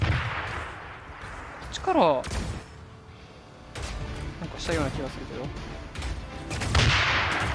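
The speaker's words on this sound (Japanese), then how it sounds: "銃声が聞こえた。" Gunfire in the online battle game Kidou Toshi X, several loud booming shots and bursts scattered across the stretch, mixed in with game sounds while a person talks over them.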